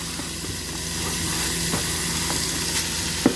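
Ground beef sizzling and frying in a chili pot, a steady close hiss with faint crackles and occasional soft stirring scrapes throughout.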